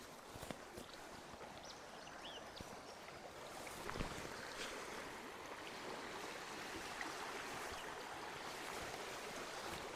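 Water draining fast through an unclogged culvert in Arkansas, a steady rushing outdoor flow with some wind buffeting, continuous and moderately loud.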